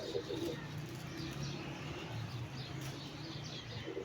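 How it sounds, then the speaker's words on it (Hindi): Soft, low pigeon coos repeat quietly in the distance over a faint outdoor background. "कबूतरों को ऊपर पहुंचाई जा रहे हैं"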